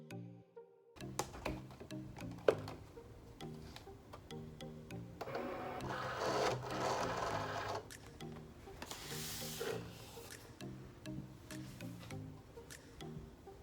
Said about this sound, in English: Press our Cricut symbol, and watch it go.